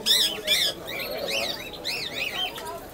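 Many small caged birds, including doves and lovebirds, chirp and tweet in quick overlapping bursts at the Feira de Pássaros do Cordeiro bird market, with a steady crowd murmur underneath.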